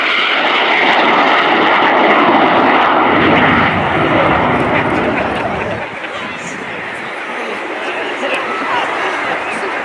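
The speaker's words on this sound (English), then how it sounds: "The Hawk T2 is one of the most advanced fast jet training aircraft in the world" A BAE Hawk T2 jet trainer roars past low and loud at an air display, its broad engine noise holding strong and then easing off, with crowd murmur underneath.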